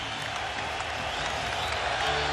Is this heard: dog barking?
no